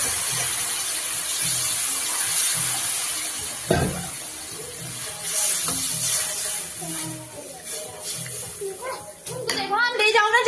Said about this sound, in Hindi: अब इसमें डालूंगी मैं पानी।